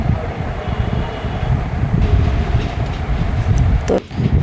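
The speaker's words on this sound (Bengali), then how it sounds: "তো এই যে ট্রেন যাচ্ছে স্টেশনে গাইবান্ধা" A train rolls past close by near Gaibandha station in Bangladesh, a loud continuous low rumble with rattling carriages and faint clatter, sustained across the whole stretch, while people's voices are faintly audible.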